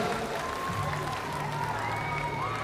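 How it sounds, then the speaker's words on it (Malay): Audience applause for silat performers from Kedah's Pesakar and Gayung groups at a rock concert, a steady wash of clapping with crowd noise and a tonal voice or music line running through it. "beri tepukan kepada pesilat Pesakar dan Gayung Negeri Kedah"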